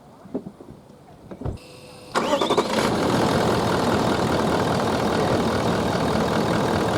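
A 4WD vehicle at a bush campground cranks and starts after a few clicks, then its engine runs loud and steady with a rough, continuous roar close by.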